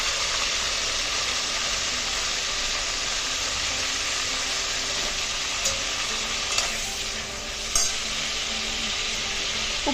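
Whole brinjals frying in hot oil for Andhra stuffed brinjal curry, giving a steady, dense sizzle that holds constant throughout, with a few faint stirring clicks near the end and no voice.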